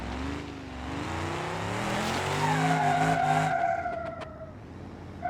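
Sustained tire squeal from a burnout by the Crusher Moonhawk muscle car in BeamNG.Drive, a loud engine drone underneath rising into a shrill, wavering screech that fades out near the end.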